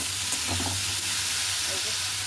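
Potatoes frying in a pan with salt and turmeric for a potato curry, giving a steady close sizzle with no pauses and no talk.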